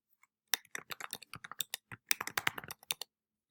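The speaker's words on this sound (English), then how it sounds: "You're just going to go ahead and type your name" Keys clatter on a computer keyboard as a name is typed into a document, a quick irregular run of close, crisp clicks with short pauses and no talking.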